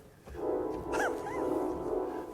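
Cinema organ dog-bark effect, heard as a couple of short yipping bark-like calls over a steady sustained organ tone, moderately quiet and brief.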